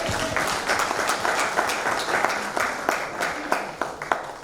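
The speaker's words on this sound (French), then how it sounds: "j'aimerais qu'on applaudisse très très fort ce soir." Dense, steady applause from a crowd at a memorial life celebration, sustained throughout at moderate loudness with a few sharper claps standing out.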